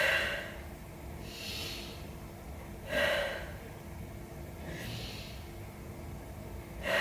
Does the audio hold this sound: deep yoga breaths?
yes